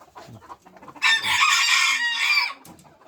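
Fancy chickens cluck softly in the background before a loud, close rooster crow bursts in and holds for about a second and a half, then a few faint clucks follow.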